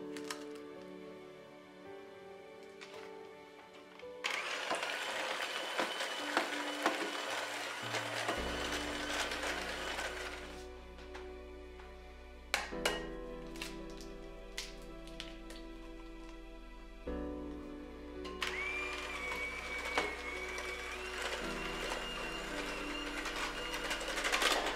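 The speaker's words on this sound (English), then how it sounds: "take your hand mixer and mix them all together" An electric hand mixer whirs loudly in bursts while mixing eggs into sugar cookie dough in a bowl, its pitch shifting as it stops and restarts several times over about twenty-five seconds.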